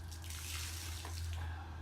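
Water pours steadily over plastic lumber landscape edging to cool it, a soft continuous splashing trickle heard faintly over a low background hum.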